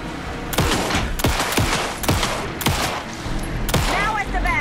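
Rapid bursts of gunfire in the video game Alan Wake 2 crack repeatedly over a steady background din during a boss fight, shots arriving every half second or so, loud and close.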